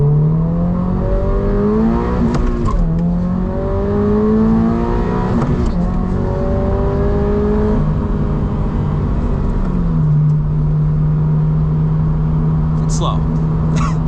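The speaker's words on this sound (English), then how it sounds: "Real quick, I want to do a little 0 to 60 run." A Toyota GR86 accelerates hard from a standstill up a slight hill, the engine note climbing through the revs in rising sweeps broken by short gear-change dips, loud and close from inside the cabin.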